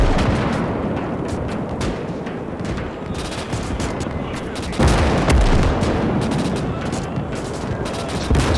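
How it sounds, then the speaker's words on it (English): Cannons firing in the dark during a battle in the WWII strategy game Gates of Hell, a steady barrage of booming shots and crackling fire that swells louder past the midpoint, dense and continuous with no voices. "Big old cannons out there"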